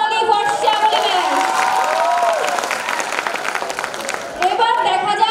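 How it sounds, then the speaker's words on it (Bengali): Loud audience applause and cheering for a stage performer, with continuous clapping, shouts and whoops from a crowd, and a voice speaking over it at times. "জোরে করতালি ফর শ্যামলী ম্যাচ।"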